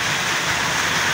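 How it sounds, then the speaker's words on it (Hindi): Heavy rain pours steadily during a sudden weather change in Jhelum, a dense, even hiss of falling water with no distinct drops or voices, loud and continuous throughout. "देखें हर तरफ बड़ी प्यारी बारिश हो रही है जी, बड़ी तेज़ बारिश"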